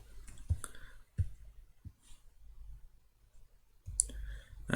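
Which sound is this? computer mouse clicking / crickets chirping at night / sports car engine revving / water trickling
computer mouse clicking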